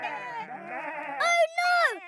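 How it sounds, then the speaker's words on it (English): A cartoon sheep gives a few loud, wavering bleats up close, one long bleat followed by two shorter ones. "I can hear more sheep coming this way."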